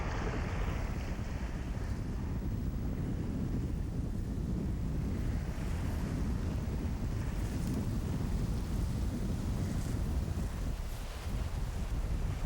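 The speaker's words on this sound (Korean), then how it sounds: "일 년 내내 바람이 끊이지 않고 높은 파도는 좀처럼 사람들의 발길을 허락하지 않는다." Wind and high waves batter Baekdo, an uninhabited island off Korea's southern coast, a dense, continuous roar of surf and gusting wind buffeting the microphone, loud and unbroken throughout.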